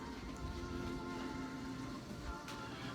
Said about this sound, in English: All right, we'll go look at the rain